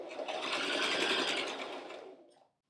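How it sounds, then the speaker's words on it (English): A sewing machine stitches fabric for a quilting project in a steady, fast, whirring burst lasting about two seconds before stopping cleanly. "it's really hard to maneuver this up under the sewing machine"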